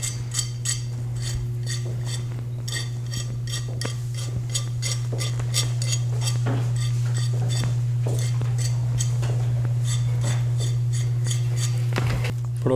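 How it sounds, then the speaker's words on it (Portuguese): A nail file sands the edge of a plate in rapid scratchy rasping strokes, close and fairly quiet, repeating steadily over a constant low electrical hum. "Com a lixa de unha, você vem bem devagarzinho,"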